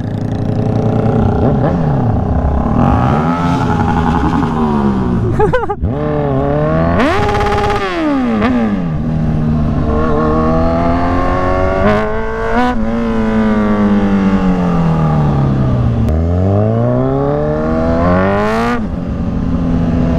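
A Kawasaki Z1000 motorcycle fitted with an aftermarket muffler revs loudly and up close on a city street. Its engine pitch sweeps up and down through repeated throttle blips and hard accelerations.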